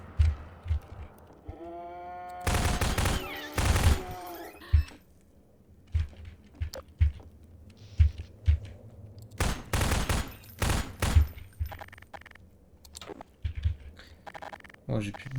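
Gunfire bursts loudly in the shooter game Half-Life 2, several clustered heavy shots with a bleating-like in-game cry between them, while a player talks over the action.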